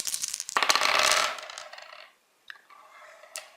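Dice tumble during a MYFAROG tabletop roleplaying combat roll, a dense clattering rattle that swells and then fades, followed by a quiet pause and a few lighter clicks and scrapes as they settle, close and alone.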